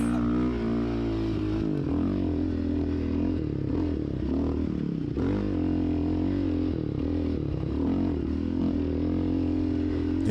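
ATV engine with ELKA shocks running steadily and loud throughout, its droning harmonics shifting as the rider hits jumps, with faint clatter from the suspension and terrain.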